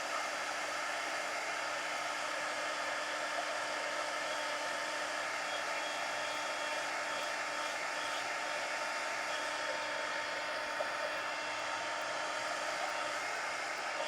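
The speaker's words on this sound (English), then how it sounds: "let me grab the heat gun. And have to just dry in between." A heat gun blows continuously and steadily, a loud even rushing whoosh, used to dry collage pages in a steampunk mini book; no voices.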